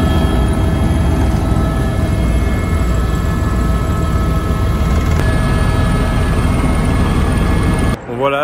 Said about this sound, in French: le petit tour d'hélicoptère au-dessus de Vegas vient de se terminer